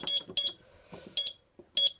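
A smoke alarm beeps in four sharp, high-pitched bursts, each a short double chirp, with quiet low rustling and handling noises between them, during a detector test on a Nugelec fire alarm control panel.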